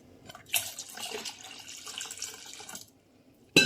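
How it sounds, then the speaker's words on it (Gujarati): About a glass of water is poured into ground peanut mixture for Gujarati dal dhokli, a steady splashing pour lasting around two seconds, followed by a sharp clatter. "1 ગ્લાસ જેટલું પાણી નાખીશું"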